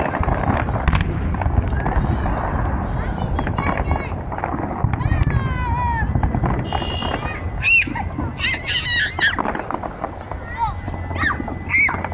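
Fireworks at the Saudi 34 display in Saudi Arabia crackle and pop continuously while a crowd talks and cheers loudly over them, with whistling tones rising now and then.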